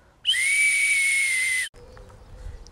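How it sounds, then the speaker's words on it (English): A hazel wood May whistle blown once in a steady, shrill, bright tone lasting over a second, loud and close, then cut off abruptly. "we are so pleased that we've managed to get our hazel whistles to work"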